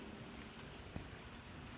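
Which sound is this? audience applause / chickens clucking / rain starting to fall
rain starting to fall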